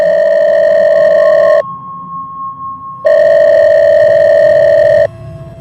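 A loud, steady electronic phone tone sounds twice, broken by a short gap with only a faint hum between, then cuts off.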